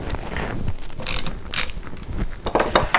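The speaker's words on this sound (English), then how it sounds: "The first thing you're going to do is you're going to remove the valve plugs." Valve plugs are worked loose from a Cat 5CP2120W pressure washer pump, giving close metallic clicks, ratcheting turns and brief scraping bursts over a low windy background, with no talking.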